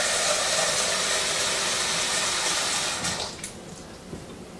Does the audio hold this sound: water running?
yes